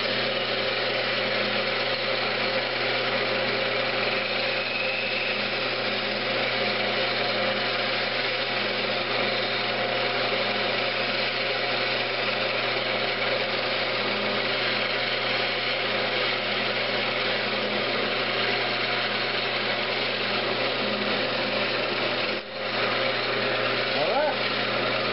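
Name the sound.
woodturning lathe parting off a Christmas ornament with skew chisel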